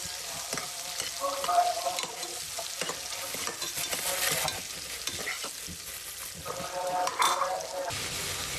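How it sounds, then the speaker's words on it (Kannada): Onions frying in a pan with pulao spices, stirred with a spoon: continuous sizzle punctuated by scraping and clinking strokes against the pan, fairly close, no talking. "ಇದು ಕಲರ್ ಚೇಂಜ್ ಆಗತ್ತಂತ ಈರುಳ್ಳಿನ ಚೆನ್ನಾಗಿ ಮಾಡ್ಕೊಳ್ಳಿ"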